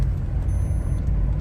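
A car driven by a learner driver gives a steady, close rumble of engine and road noise that holds evenly throughout, with no talking.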